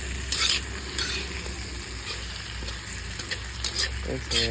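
Food sizzles in a pan under a low background hum, with intermittent stirring scrapes and clatter, close and continuous.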